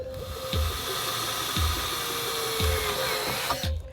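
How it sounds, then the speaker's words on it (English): A power drill bores new holes while a boat hatch is installed, with a steady whirring hum broken by a few rhythmic thumps and surges as the bit cuts, close and fairly loud. "After drilling some new holes"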